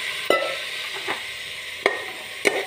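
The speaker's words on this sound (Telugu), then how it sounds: "ఇప్పుడు ఇందులో తోటకూర కాళ్ళు వేసేస్తున్నా" Chopped amaranth stems go into chana dal frying in a pan, with a steady sizzle under a few sharp scrapes and knocks as the mixture is stirred.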